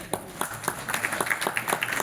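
An audience at an award ceremony gives applause, a loud, lively round of clapping with distinct individual claps standing out in an uneven rhythm.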